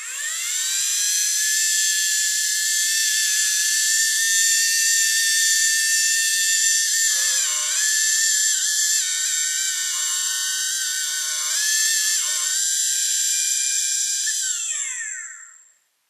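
A rose engine lathe with a straightline chuck cuts wood, giving a loud, high, steady whine that runs continuously for about fifteen seconds with slight dips in pitch before winding down to silence.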